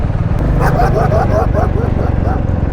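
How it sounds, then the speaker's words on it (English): A dog on a busy city road, heard over motorcycle riding noise, gives a quick run of yips and barks close by, partly under a man's speech. "Some dog just cut right across."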